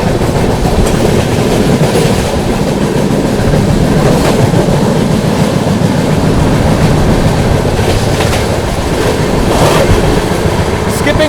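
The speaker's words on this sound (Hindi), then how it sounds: "अपनी पाटलिपुत्र सुपरफास्ट एक्सप्रेस स्किप करने जा रही है माणिकपुर जंक्शन को" The Patliputra Superfast Express races through Manikpur Junction without stopping, a loud continuous roar of wheels with rhythmic clickety-clack over the rails, heard up close from on board.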